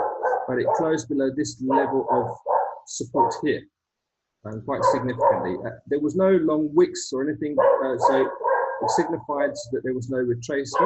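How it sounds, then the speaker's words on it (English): A pet dog barks and yips intermittently in the background of a home, mostly under steady continuous talk from a person speaking close by. "Hopefully you guys can hear over all the barking."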